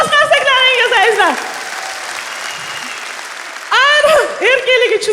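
Concert audience applause at a live comedy show, a steady wash of clapping heard under and between a person's loud animated speech.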